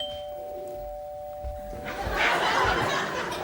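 A bow drawn across a resonant object to mimic a doorbell on a comedy stage produces sustained ringing tones, followed by a burst of audience laughter and noise.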